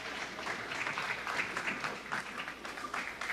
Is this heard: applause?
yes